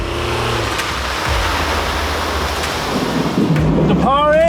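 A four-wheel-drive vehicle on a track drives through water with a rushing splash and wash over a steady engine drone, close and loud with wind buffeting, and voices speaking near the end.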